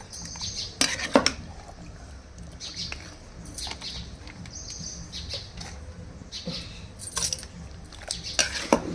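Utensils clink and scrape in brief bursts while avakaya mango pickle is mixed, with sharp metallic ticks scattered unevenly over a soft background hiss.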